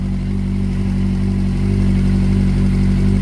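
Yamaha FZ6 motorcycle engine idling steadily on a dyno in a workshop, a loud, constant low rumble with no change in pitch and no voices.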